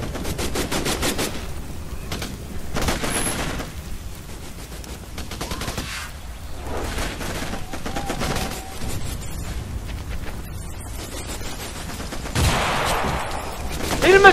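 Continuous gunfire and machine-gun bursts from the jungle shooter game Raven Squad: Operation Hidden Dagger, loud and dense throughout, with a heavier volley near the end and faint voices underneath.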